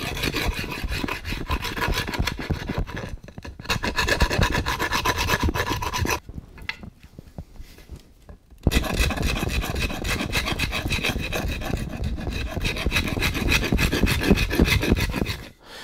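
Steady rasping of a file scraping along the fretboard edge of a guitar neck in continuous back-and-forth strokes, close up, with a short pause partway through before the filing resumes.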